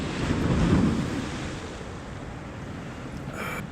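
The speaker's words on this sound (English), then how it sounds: "The waves are coming in, but they're not breaking very high" Small ocean waves wash against the Santa Barbara Harbor breakwater without breaking high, a steady broadband surf rush with some wind noise, swelling early and then settling.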